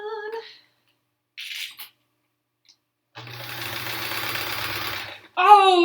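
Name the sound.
sewing machine sewing quilt rows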